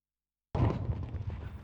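Artillery fires in the WWII strategy game Sudden Strike Forever, one sudden booming blast after a silent start, with a rumbling tail that fades slowly.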